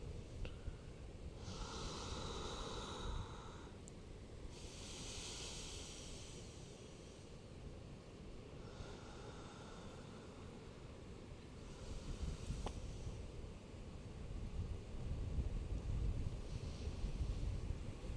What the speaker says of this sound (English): It's done by narrowing the throat, so that when you inhale through the nose, it sounds like the ocean.